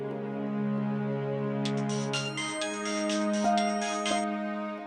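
A phone call ringing tone sounds indoors in a Marathi TV serial scene: a sustained electronic tone, with a brighter, tinkling melodic burst of repeated notes partway through, and no speech.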